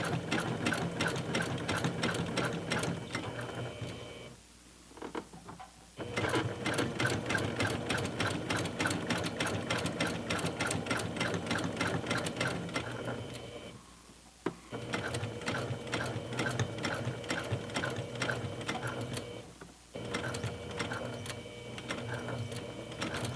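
A sewing machine stitches the lining seam of a makeup bag in long, steady runs of rapid, even needle chatter, pausing briefly three times before starting again, close and loud with no talking.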